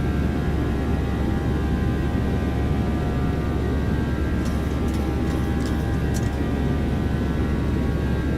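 A Boeing 737 taking off in the X-Plane 12 flight simulator: a steady, loud engine roar holds throughout, with a few faint ticking clicks partway through.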